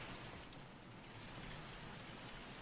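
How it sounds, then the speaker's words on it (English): Steady, even rain at a gentle, calm pace, a soft continuous hiss of drops on a surface with no voices or other sounds over it. "Relaxing, calm rain sounds."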